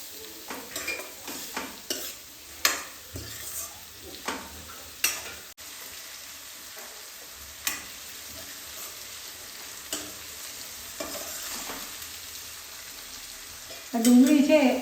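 Chopped onion sautéing in a pan for Kathiyawadi roasted eggplant bharta, a soft, steady sizzle broken by frequent clicks and scrapes of a stirring spoon against the pan.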